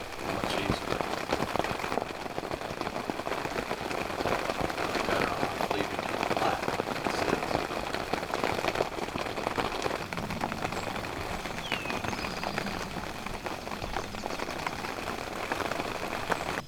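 Steady rain patters on surfaces in the woods during a spring turkey hunt, a dense, even hiss with scattered drop ticks running throughout at moderate level, no voices.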